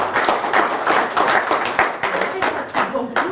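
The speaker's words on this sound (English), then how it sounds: "give yourselves a round of applause, guys" Conference audience applauds itself with dense, moderately loud clapping that holds steadily for a few seconds, with some voices mixed in.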